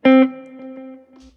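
A single electric guitar note rings out sharply, then sustains and fades with repeating delay echoes and a reverberant tail.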